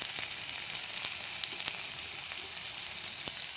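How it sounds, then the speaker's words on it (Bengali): Peanuts and tomato frying in a pan for a breakfast of leftover flatbread, giving a steady, close sizzle with scattered small pops and crackles and no talking. "দেখো আমি অল্প একটু বাদাম ভেজে নিলাম। একটু টমেটো দিয়ে দিলাম"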